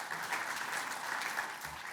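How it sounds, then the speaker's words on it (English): Audience applause at a mining club lunch, welcoming a former Test cricketer: a steady, even patter of many hands clapping, fairly faint and distant-sounding, with no voices over it. "Can we give Greg a round of applause?"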